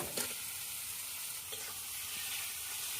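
Boiled potatoes drop into spiced oil and are stirred, giving a sharp burst followed by a continuous close, even sizzle with faint scraping.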